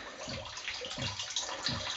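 A homemade ram pump thumps low and faint roughly every two-thirds of a second, while a steady wash of flowing water runs beneath.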